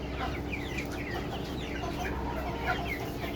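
A poultry farm with chickens and ducks, kept as broilers, layers, Sonali and tiger hens, fills with continuous overlapping clucking and calls, a busy, even flock chorus heard up close without speech.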